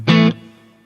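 A Tone King Royalist guitar amp with its reverb switched on plays a single bright, loud struck chord that cuts off after a moment, leaving a faint reverb tail that fades slowly.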